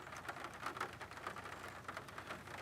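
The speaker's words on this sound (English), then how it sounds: "it's raining pretty good right now" Rain falls steadily on an outdoor disc golf course during a tournament round, a quiet, even patter with scattered drops and no voices.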